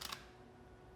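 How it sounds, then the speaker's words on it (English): A single quiet shutter release from a Canon 1DX Mark II in silent mode, a short soft double click at the start followed by low room hiss. "Okay, so we're in silent mode,"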